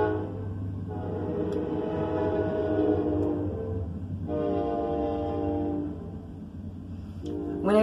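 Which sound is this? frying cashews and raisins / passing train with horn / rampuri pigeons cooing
passing train with horn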